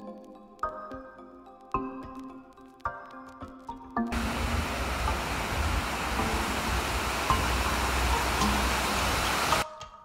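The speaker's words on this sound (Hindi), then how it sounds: "लाउटरब्रुनेन में बहुत सारे वॉटरफॉल्स हैं अराउंड 72, तो आपको जो पानी वाला साउंड है वो जब आप वॉक करोगे तो पूरे टाइम सुनाई" Waterfalls in the Lauterbrunnen valley, Switzerland, send up a loud, steady, broadband roar of rushing water. It cuts in suddenly after a few seconds of quieter sounds and continues until it stops abruptly near the end.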